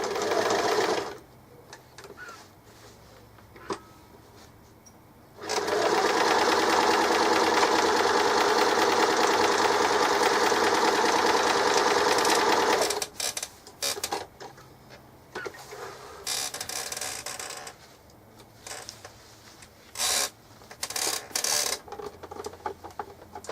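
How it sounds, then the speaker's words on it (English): A sewing machine stitches collars onto bib jacket pieces of striped fabric and linen, running in one long steady burst followed by several shorter start-stop runs, close and loud with no talking. "I have done the collar sewing on all the jacket pieces"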